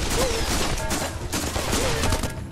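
Dense bursts of rapid gunfire from a VR shooter video game, loud and continuous across the whole stretch, with a brief faint voice beneath it.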